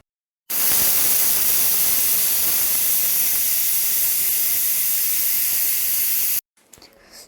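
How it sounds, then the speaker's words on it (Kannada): A pressure cooker of tomato rice vents steam in one loud, steady hiss lasting about six seconds, then cuts off abruptly, leaving a few faint clatters. "ಈಗ ಇದಕ್ಕೆ ವಿಷಲ್ ಮಾಡೋಣ ಎರಡು ವಿಷಲ್ ಮಾಡಿಸೋಣ"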